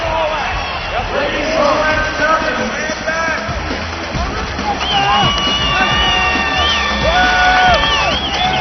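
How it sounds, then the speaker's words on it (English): Excited crowd at an arena football game in Spokane, loud cheering, whoops and whistles filling the arena over a dense babble of voices, with scattered sharp shouts. "Crowd excited here in Spokane."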